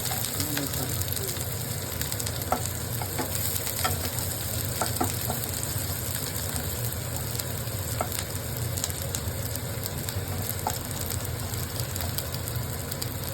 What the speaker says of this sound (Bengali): এখন এই পেঁয়াজটাকে আমি লাল করে ভেজে নেব।